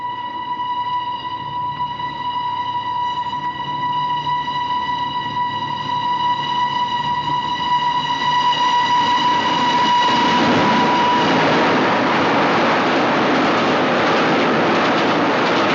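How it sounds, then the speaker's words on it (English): Express boat train rushing through a station without stopping, a sustained horn tone giving way to a loud building roar and rattle of carriages passing close by. "No, it's the express. The boat train."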